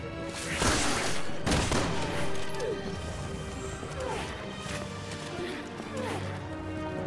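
Gunfire in Resident Evil 6 during the Deborah boss fight, a few loud sharp shots and crashes early, then clanking mechanical impacts and scattered hits, with a voice talking over it.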